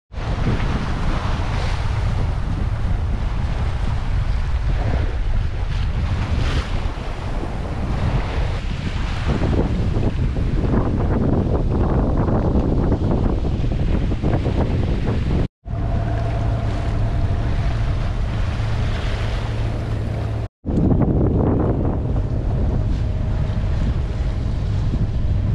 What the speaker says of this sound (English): There's a bit of wind coming around this headland.